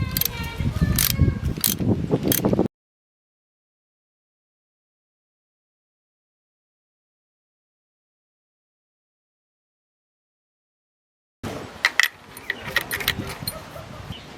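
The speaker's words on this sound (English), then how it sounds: "we're going to go ahead and hold the piston while we take off the nut." Ratcheting socket wrench turning a strut top nut off on a Jeep Grand Cherokee, using an 18mm socket while the piston is held; close mechanical clicking in two bursts separated by a long stretch of silence.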